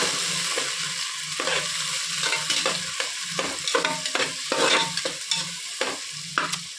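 A tomato curry with fenugreek greens fries in a pan. A steady sizzle runs throughout, and a utensil scrapes and stirs in repeated, close strokes.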